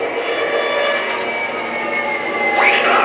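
Lionel LEGACY GP-30 diesel model train braking to a stop, a continuous mechanical hum and rumble with a sharp horn-like blast near the end.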